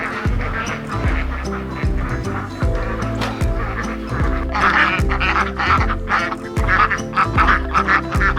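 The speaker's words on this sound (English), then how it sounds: "Quack quack." Ducks quack repeatedly in a dense, overlapping rhythmic chorus, loud and close, with steady honking calls throughout and no speech.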